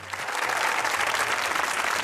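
An audience at a mushaira poetry gathering on the Eid holiday applauds in welcome of a poet, a full, even wash of clapping from a crowd lasting about two seconds.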